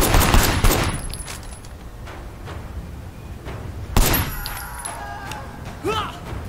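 Gunfire from the action video game Sleeping Dogs: a dense burst of shots at the start, then sparse rounds and a second loud burst near the end, with game effects over a steady background.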